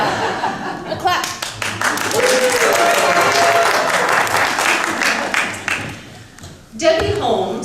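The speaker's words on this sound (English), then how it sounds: "A clap." A theater audience breaks into loud, sustained applause mixed with chuckles and laughter, which fades before a brief renewed burst near the end.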